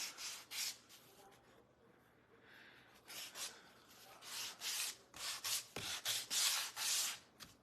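Weathered wood is sanded by hand with a series of rhythmic rasping rubs, close and fairly quiet, the strokes quickening toward the end.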